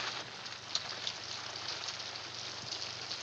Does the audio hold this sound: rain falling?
yes